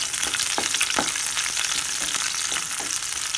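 Small shallots frying in a pan, an even, close sizzle with repeated scraping strokes of a stirring spoon roughly every half second.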